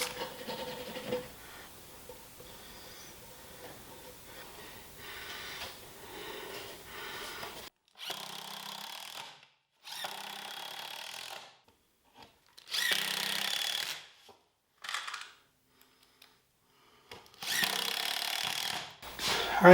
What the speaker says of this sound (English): So I'm just going to start out with pre-drilling some countersunk holes.